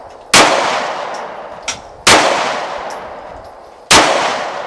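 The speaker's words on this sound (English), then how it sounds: "We're gonna shoot the Millennium G2 9mm, 10 yards." Taurus Millennium G2 9mm pistol fired at a 10-yard target, three loud sharp shots spaced over a few seconds, each with a ringing decay, plus a faint clink between.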